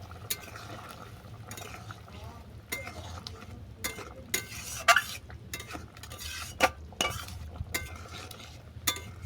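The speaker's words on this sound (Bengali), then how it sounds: "এরপর দিচ্ছি সর্ষে বাটা সর্ষে বাটা ভালো করে মিশিয়ে দিলাম" Mustard paste being stirred into a hilsa fish curry in a pan, with soft scraping and scattered clinks of a spoon against the metal over a low simmering background.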